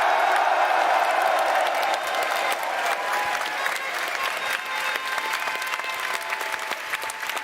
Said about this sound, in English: Make some noise for yourselves!